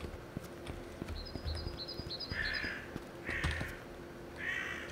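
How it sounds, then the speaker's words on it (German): Birds call in the video game Infra, with several harsh, crow-like caws repeating at intervals over a low ambient outdoor background, moderately loud and somewhat distant. "Hinten sind Vögel."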